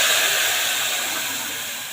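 Tomato sauce hits a hot pan on the stove, giving a loud, broad hiss of sizzling that fades slowly over about two seconds.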